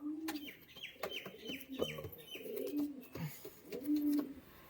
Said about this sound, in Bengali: প্রচণ্ড অ্যাগ্রেসিভ পায়রা, ধরা যাচ্ছে না বন্ধুরা, হেভি শক্তিশালী পায়রা।